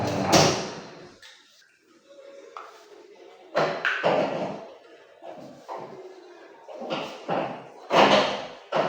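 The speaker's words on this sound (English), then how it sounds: "Don't close that door." A door is closed in a home kitchen during dinner cooking, heard as a few sharp thuds and knocks scattered among bursts of household noise, with a voice talking nearby.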